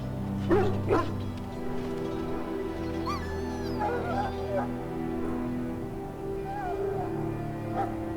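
A dog in the fantasy role-playing game Dragon Age: Origins barks and whimpers in short yips over a low background drone, close and moderately loud, with a few high whines scattered through.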